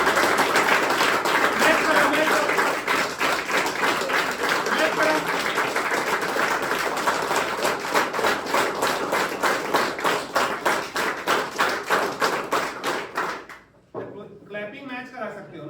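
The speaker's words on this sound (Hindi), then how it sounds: "जोर से ताली बजा भाई।" Students in a classroom audience clap loudly in a long, fast run of claps that slowly thins and trails off near the end, with some talking mixed in.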